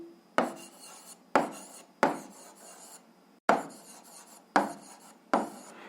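A pen writes an algebra solution on paper in distinct, loud scratching strokes, about six bursts roughly a second apart, each starting sharply and trailing off, close to the listener, with no talking.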